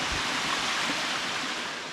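Steady broadband rush of a waterfall system seen from a fallen tree along a stream, continuous and fairly loud with no voices over it.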